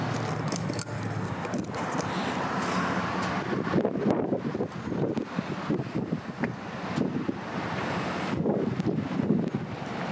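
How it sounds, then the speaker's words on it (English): Strong wind buffeting a microphone outdoors in Yarmouth, a loud, continuous rumbling roar that surges and gusts throughout. "I'm trying to stay out of the wind here. It's so windy."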